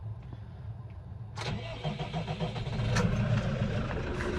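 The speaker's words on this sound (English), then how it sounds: "Get inside the tractor and warm this bad boy up" A Case Farmall 110c tractor's engine cranks and catches at about 1.4 s, then runs loud and close, building to a steady warm-up idle with a slight rise in revs, on a cold 20-degree day.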